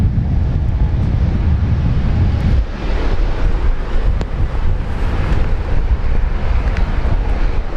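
A jet airliner on its takeoff roll from runway 19 left at Brisbane Airport, callsign Velocity 702, bound for Hobart: a loud, steady broadband roar with a deep rumble that eases after a few seconds, with gusty wind noise on the microphone.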